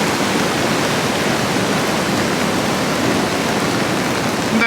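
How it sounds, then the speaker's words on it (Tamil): Queensland floodwater from the 2022 flood rushes over its banks in a steady, dense roar. It is loud and close with no pauses, and no voices are heard. "பாருங்கள், வெள்ளம் எப்படி கரை புரண்டு ஓடிக்கொண்டிருக்காண்டு."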